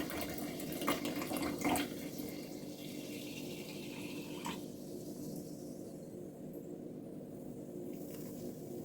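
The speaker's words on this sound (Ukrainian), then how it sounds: "Тут у мене сильно газована вода. Відливаю 250 мл." Strongly carbonated sparkling water pours steadily in a kitchen, a soft continuous hiss and trickle with fizzing texture, fairly quiet and close, with a couple of light knocks early on and no speech.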